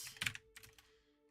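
Fingers tap a computer keyboard in a short quick burst of soft clicks, close and faint, with no talking.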